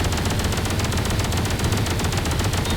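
Rapid, continuous weapons fire from ships in the space-building game Space Engineers, a dense loud barrage of repeated shots running steadily without pause.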